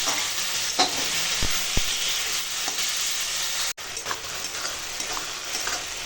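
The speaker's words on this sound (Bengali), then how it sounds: "একটু টমেটোটা রান্না করছি দেখো মানে একটু গলে যাবে নুনটা দিয়েছি" Tomatoes with salt sizzle and fry steadily in a pan, a dense continuous crackle with a few brief clinks of a stirring utensil near the start and one sharp cut partway through.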